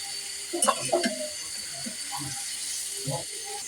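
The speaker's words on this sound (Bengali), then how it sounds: "এই যে এখন সামান্য একটু পানি দিয়ে দিতেছি।" A small splash of water poured into a cooking pan of lentil fritter and egg curry, with a brief burst of pouring and clattering followed by a softer sizzle.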